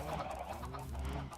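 Chickens cluck in a Minecraft-style game world, a low, busy mix of overlapping fowl calls that runs steadily under the game's ambient sound.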